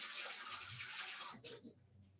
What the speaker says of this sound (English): So now I can add in plain water.